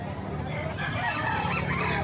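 A rooster crows close by at the Angeles pet market, one brief loud call with other fowl clucking and faint voices in the background.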